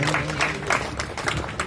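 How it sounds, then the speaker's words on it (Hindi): An audience claps loudly at a welcome and honouring ceremony for a district chairperson in Madhubani, with dense, continuous applause close by and some voices mixed in. "जोरदार ताली के संग"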